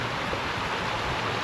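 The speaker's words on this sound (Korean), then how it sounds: "계곡에 산에서 내려오는 물소리가 아주 좋은 곳입니다." A mountain stream flowing down a deep valley in Yeongwol, Gangwon, heard as a steady, close, broadband rushing of water with no talk over it.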